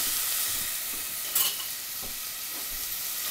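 Onions sauteing in a pan for chicken parmesan sauce make a steady, soft sizzle with a faint stir or clink midway, close and alone with no talk.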